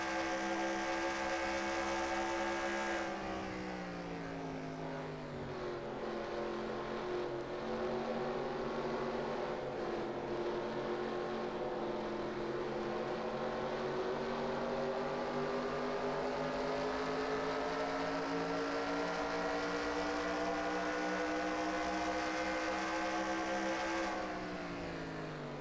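A race car's engine roars steadily at high revs down a straightaway in the NR2003 racing sim, IROC series at Watkins Glen, heard on board, loud and continuous with a slight pitch rise, then cutting off near the end.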